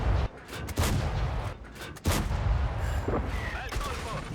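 Tank guns firing in World of Tanks on a tier 6 Progetto 65 line medium tank, several loud booming shots in a few seconds with sustained battle noise between them.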